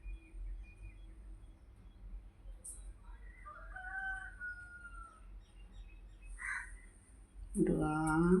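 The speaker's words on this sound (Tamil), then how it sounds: "சேவல் பையன்தான் கத்திக்கிட்டே இருக்கான்" A rooster crows at a Murugan shrine where lamps are lit and flowers are offered. Two fainter crows sound from a distance in the middle, then a loud, close crow comes at the end over low background noise.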